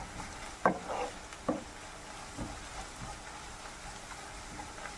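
Onion curry being stirred in a pan after turmeric powder is added, a faint low sizzle with a few distinct scrapes and clinks of a spoon near the start, then quieter stirring.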